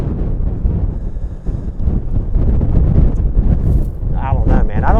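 Strong wind blows across a lake, producing heavy, continuous low buffeting and rumbling against the microphone with gusty swells, while voices murmur faintly underneath.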